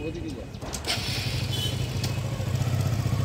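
A motorcycle engine revs and rumbles steadily nearby, with a voice speaking briefly at the start over traffic noise.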